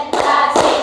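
A group of people clapping together in a counted rhythm, two sharp, loud, synchronized claps about half a second apart, with a short ringing echo of the room behind them.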